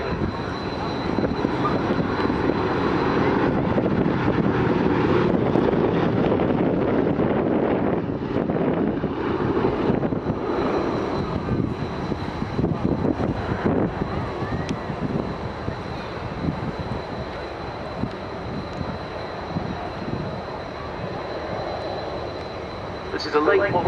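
A Boeing B-17G bomber, a late-model four-engine WWII heavy bomber, flies past at an air show, its steady engine drone loud and continuous with wind buffeting the microphone and a faint commentator's voice beneath.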